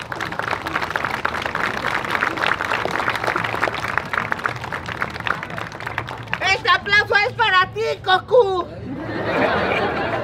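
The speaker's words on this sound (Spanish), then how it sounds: "Fuerte las palmas." A live show audience claps and laughs together, a dense crowd applause with chuckling and chatter, followed by a speaking voice over the fading noise.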